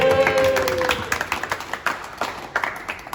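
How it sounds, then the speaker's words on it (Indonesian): Scattered handclaps from a small group in a classroom during an electrical circuit practical, applauding a student named Raya Andra; sparse, uneven claps grow more distinct after a brief tone fades at the start. "Tepuk tangan buat Raya Andra."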